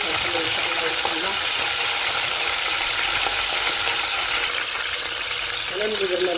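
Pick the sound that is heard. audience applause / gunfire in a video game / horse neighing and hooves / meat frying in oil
meat frying in oil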